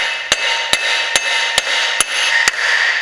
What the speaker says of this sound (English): Take a hammer and just gently tap.